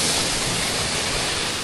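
A small seasonal waterfall runs full after rain, producing a steady, broad rushing hiss of falling water at moderate distance, with no voices over it.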